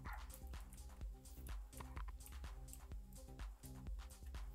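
A dog barks and yips repeatedly in quick bursts behind a player's microphone during an online game voice chat, with clear rhythmic, fairly close barks and no talk over them.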